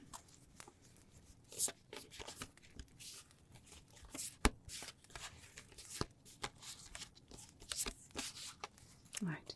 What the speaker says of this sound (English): Just give those a nice good shuffle.